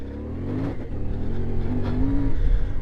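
A CFMOTO Ibex 450 adventure motorcycle climbs uphill off road, its mid-pitched engine droning and building steadily in revs as the throttle is held open, close and continuous with no talk.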